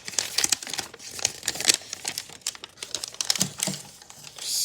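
Origami paper being folded and creased by hand, a steady run of crisp crinkles and sharp paper snaps close to the mic, with no voices.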